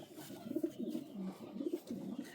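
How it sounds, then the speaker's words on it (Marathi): A racing pigeon hen coos softly and repeatedly in a low, throaty burble, close by and fairly quiet. "रेसिंगमध्येच पिजन आहे आपल्याकडे हे सुद्धा."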